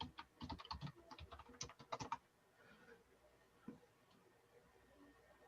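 Rapid, close clatter of keys on a computer keyboard while logging in to a cloud NAS, a quick run of taps lasting about two seconds, followed by near silence with one faint click.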